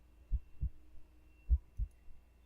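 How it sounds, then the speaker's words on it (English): A heartbeat thumps in a cat horror story, two paired low double beats, close and muffled, over a faint steady hum. "You feel like you can hear your heartbeat."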